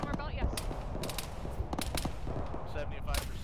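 Sustained gunfire in an ArmA-style military game, bursts from a Warrior IFV and small arms crackling repeatedly over a steady battlefield rumble, with sharp shots spread throughout and voices talking over it.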